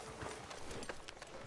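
Horse hooves clip-clop steadily in a Western-style video game, a quick, even rhythm of soft thuds that runs through the whole moment over faint background ambience.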